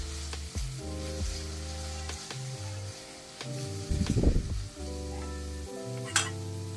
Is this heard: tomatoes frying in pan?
yes